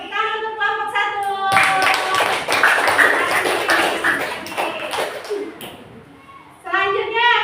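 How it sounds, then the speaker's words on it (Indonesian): A classroom group claps for group one, a burst of dense hand clapping lasting several seconds, framed by children's voices speaking before and after. "beri tepuk tangan untuk kelompok 1"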